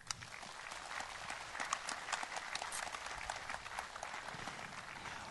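An audience at a memorial concert applauds a performer being welcomed onstage, a faint, steady patter of many hands clapping without pause for the whole stretch.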